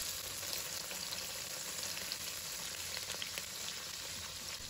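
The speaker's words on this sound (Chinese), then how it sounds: "倒入适量的食用油，把油烧热，然后把豆腐一块一块的放入锅中" Tofu pieces fry in hot oil in a wok, giving a steady, even sizzle and crackle throughout with no talking.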